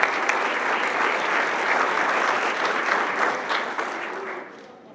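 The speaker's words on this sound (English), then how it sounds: "Could we please have one more round of applause for all of them?" Audience applause for honorees at a 2017 Strongsville PTA Founder's Day event: a full, steady round of clapping that holds for several seconds before starting to thin out near the end.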